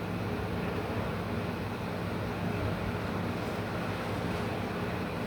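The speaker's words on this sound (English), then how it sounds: "Damn, that wind is blowing." Wind blows hard and steadily outdoors, filling the whole stretch with a dense, continuous roar and rumble that buffets the microphone.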